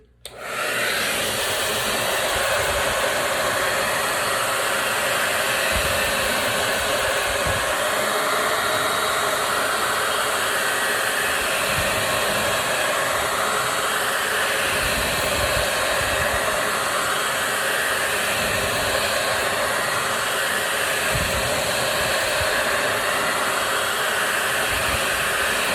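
A hair dryer blows steadily and loudly at close range for about 25 seconds, quick-drying a reindeer-shaped craft piece; the broad, even whoosh runs without a break and no one speaks.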